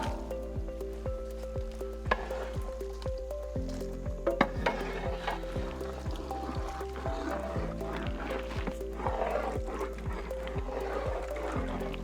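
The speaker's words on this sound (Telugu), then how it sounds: "దీంట్లోనే మనం ముందుగానే ప్రిపేర్ చేసి పెట్టుకున్న చికెన్ యాడ్ చేద్దాం" Fried chicken dropped into a simmering Kashmiri chicken curry gravy, giving a faint steady sizzle with soft stirring and bubbling, quiet and low in level throughout.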